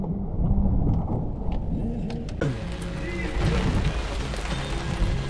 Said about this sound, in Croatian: Kiša pada, vjetar puše, mi suhi.